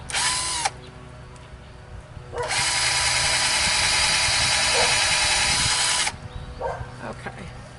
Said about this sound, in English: I'm going to drill my pilot hole